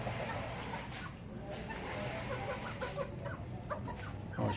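Brown hens clucking close by at a backyard coop, soft repeated calls over steady low outdoor noise, with no voices.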